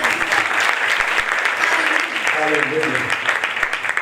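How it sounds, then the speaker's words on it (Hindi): Loud applause from a congregation at a church anniversary service in Karachi, a thick sustained roar of clapping, with a voice briefly heard over it in the second half. "एक बार खुदा के इस मसीह के लिए जोरदार तालियां"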